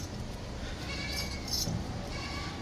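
A goat, sold as a home-bred animal alongside a 12–13 day old kid, bleats in the midst of steady outdoor background noise, with broadband rumble throughout and no speech.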